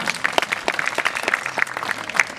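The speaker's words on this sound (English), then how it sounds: "You might like to give her a bit of a round of applause" Audience applause at a bird show at Healesville Sanctuary, scattered hands clapping steadily and fairly close for a couple of seconds, with no talking.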